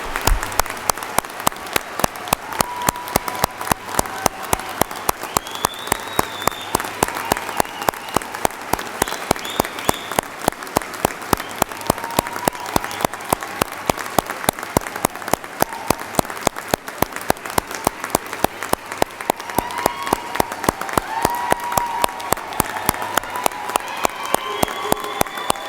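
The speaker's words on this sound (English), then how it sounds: "if you would please join me in a round of applause to recognize the 75th Indiana State Police Recruit Academy class" Sustained applause from a large audience at the Indiana State Police 75th Recruit Academy class graduation ceremony, dense steady clapping filling the room for the whole stretch with faint crowd murmur beneath.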